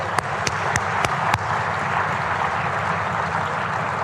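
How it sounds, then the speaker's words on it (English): An audience at a large conference session gives a steady round of applause, preceded by a few sharp individual claps at the start. "a round of applause for them."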